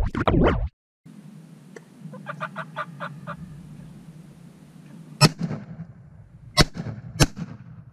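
Several sharp gunshots ring out at a turkey hunting spot in Colorado in spring, three loud cracks spaced a second or so apart over rustling and faint bird clucks, with earlier scratchy noise and a short burst at the start.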